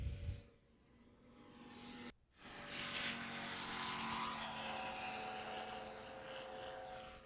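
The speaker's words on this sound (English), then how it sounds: "Evolution Aircraft, Larry Mednick taking off now" An Evolution Aircraft light plane takes off at the Sun 'n Fun airshow. After a short lull, its engine roar builds and holds as a loud, sustained drone.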